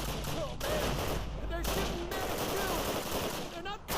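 Rapid bursts of rifle and machine-gun fire crackle through a battle in the first Call of Duty game, steady and dense beneath a commentator's voice.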